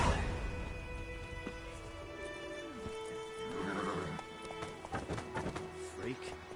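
Roach, a horse in The Witcher 3, gallops off with quick hoofbeats and a neigh, close and moderately loud under a spoken voice and game music.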